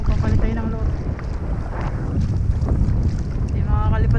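Strong wind buffets the microphone at a choppy seaside fishing spot, a loud continuous roar with gusting surges, rough waves and water noise mixed underneath throughout.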